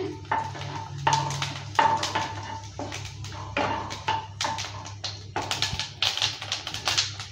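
Two dried chillies and whole cumin seeds are stirred in hot ghee, a utensil scraping and tapping the pan in a steady run of close, repeated strokes over a faint low hum, with no talking.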